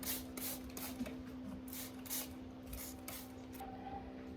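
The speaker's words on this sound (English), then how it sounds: "I'm just gonna spray off each leaf" Soapy water is sprayed from a hand spray bottle onto plant leaves in a winter greenhouse: a series of short, close hissing bursts at an uneven pace over a steady low hum.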